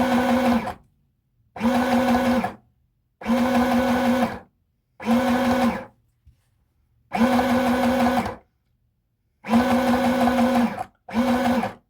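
A sewing machine runs a straight stitch along the hem of a red cotton skirt in short bursts of steady whirring, each lasting about a second, separated by pauses of silence.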